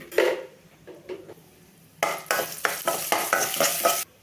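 Dried red chilies and chana dal hit hot oil in a pan, giving a close, bright sizzle with stirring scrapes, quieter at first, then louder and steady with repeated stirring strokes.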